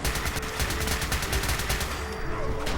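Rapid, continuous automatic gunfire in Fallout 4: a dense, loud stream of sharp shots close by that barely lets up.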